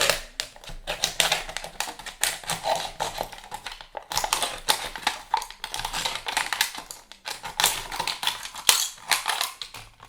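Steady rapid crackling and scraping of a utility knife cutting through a thin aluminum can, close up, continuous with brief pauses.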